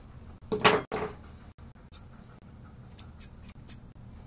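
Grooming scissors trim a poodle's coat in a kennel with one loud close snip followed by faint, scattered clicks and light shears in a quiet room.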